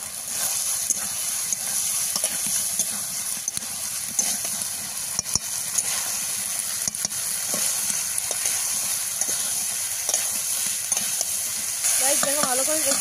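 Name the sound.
soybeans being stir-fried in a pan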